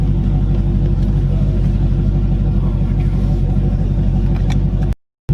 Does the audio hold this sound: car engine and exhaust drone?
yes